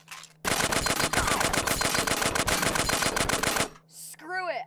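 A long unbroken burst of rapid automatic gunfire in a shooting video game, loud and dense for about three seconds, followed by a short synthetic sweep and a player's voice.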